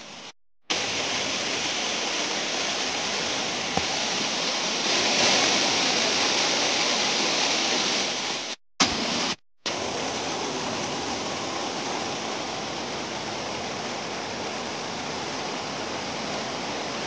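The Ghumreswar waterfall, the highest in Nabarangpur district, roars with a dense, unbroken rush of falling water, nearby and loud, cut by a few brief silent dropouts, with no voices.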